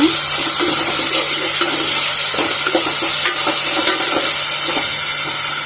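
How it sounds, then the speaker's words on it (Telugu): Onions and green chillies sautéing slowly in a pan on low heat, a steady close sizzle with occasional stirring clicks and scrapes throughout, no talking. "ఆనియన్స్ పచ్చిమిర్చి సో ఇది ఇలా నిదానంగా మగ్గుతూ ఉంటుంది"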